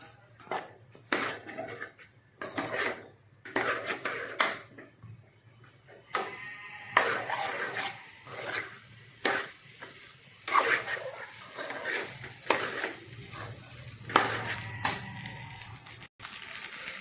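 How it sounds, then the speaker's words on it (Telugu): A spoon stirs tomato rice in a pot, giving intermittent scraping and clinking knocks against the metal at an uneven rhythm, fairly quiet and close, with no talk. "మొత్తం కలిసేలాగా కలుపుకోవాలి"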